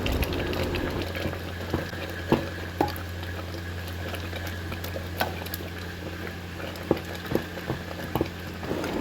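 Saag of mustard greens simmering in a pot, giving a steady low bubbling with scattered soft pops and clicks throughout, close and fairly loud with no talking.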